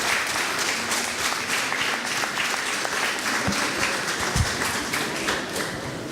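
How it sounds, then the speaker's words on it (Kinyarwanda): A church congregation applauds at a service, giving warm, sustained clapping from many hands that holds steady throughout, with a few heavier thumps. "On peut vous donner une minute de les applaudir."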